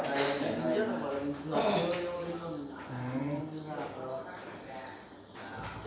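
A caged white-eye (khuyên) songbird singing in repeated high, bright trills at a steady pace, close and clear, with someone talking underneath throughout.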